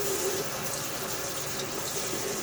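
Steady stream of water from a tap rinsing the handle of a shaving brush, a continuous close splashing gush with no pauses.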